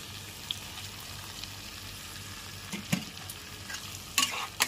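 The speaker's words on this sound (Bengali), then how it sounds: "টুকরোটাকে মশলার সাথে খুব ভালো করে মিশিয়ে নিচ্ছি" A spoon stirs fried pointed gourd pieces and prawns through spices in a pan over a medium flame, with a soft ongoing sizzle, scraping strokes and a few sharper clinks near the end.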